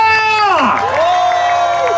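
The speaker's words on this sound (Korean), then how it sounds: "다 같이 박수와 함성!" A festival crowd at an outdoor opening-ceremony show in Yanggu, South Korea, cheers loudly, with a prominent rising and falling shout over a dense roar of voices and faint clapping.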